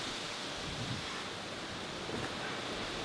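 Wind during a home workout, heard as a steady broadband rush like gusts across a microphone, loud and constant for the whole stretch, with no speech.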